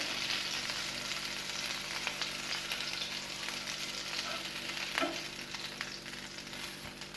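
Chicken malai seekh kebabs fry in a pan with a soft continuous sizzle and occasional turning or scraping sounds, close but fairly quiet, with no talking.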